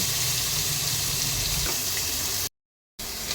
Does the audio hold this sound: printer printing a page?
no